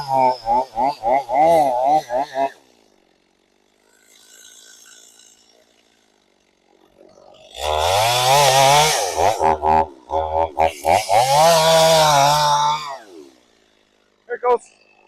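A chainsaw revs in short, loud bursts, then after a quieter pause runs long and hard through the back cut on a big tree being felled, its engine droning close up before cutting out.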